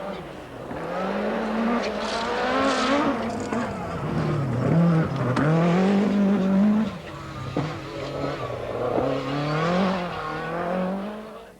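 Four-wheel drive Audi Quattro rally car engine roaring as it accelerates at the 1985 Lombard RAC Rally, revs rising and falling with gear changes, loud and close with some crowd or commentary murmur underneath.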